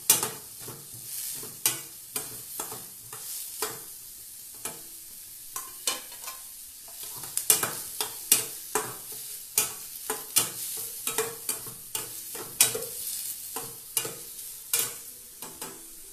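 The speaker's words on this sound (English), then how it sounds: "Now I am putting one finely chopped onions. And I am going to saute it." Finely chopped onions sauté in hot oil, a low background sizzle punctuated by repeated sharp clacks and scrapes of a spatula against the pan, irregular but steady throughout.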